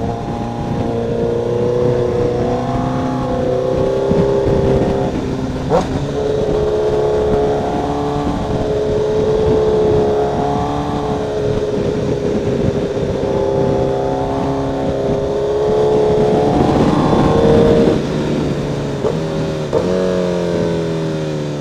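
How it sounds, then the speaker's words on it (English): Car exhaust droning loudly throughout a drive, with rising and falling engine tones as it accelerates and shifts, a surge near the end, and wind noise over the microphone. "let's just enjoy the ride and enjoy the exhaust."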